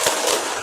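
A classroom of students doing an energetic spirit clap together, dense sharp claps filling the whole brief moment loudly with a quick burst-like rhythm.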